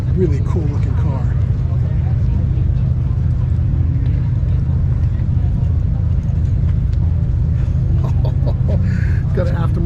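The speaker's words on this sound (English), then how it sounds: "It's got an aftermarket exhaust." A car with an aftermarket exhaust at a car show and drifting event on a superspeedway gives a loud, close, steady low engine drone, with people talking over it.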